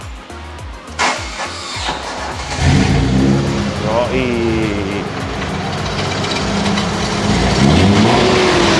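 A modified Nissan Cefiro drift car's engine cranks, catches and settles into a loud running idle with a couple of revs, while someone talks briefly nearby.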